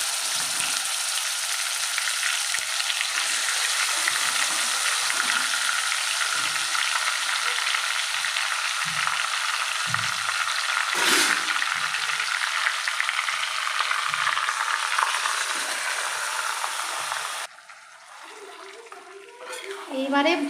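Marinated chicken hits hot oil with cinnamon and cardamom, giving a loud, steady frying sizzle that runs without pause, then drops abruptly to a quieter hiss with light clatter near the end.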